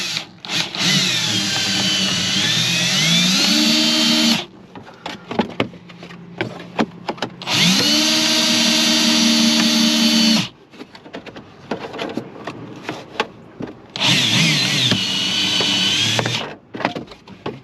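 A power tool spins up and cuts in three separate runs of roughly three to four seconds each, whining loudly and winding down between them, with quieter handling clatter in the gaps.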